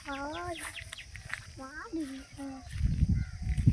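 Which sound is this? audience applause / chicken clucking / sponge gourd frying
chicken clucking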